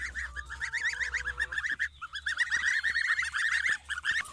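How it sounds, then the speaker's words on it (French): Young goslings give rapid, high chirping honks in a busy cluster, close and continuous, on a farm with a low hum underneath. "Donc, ça, c'était les oisons."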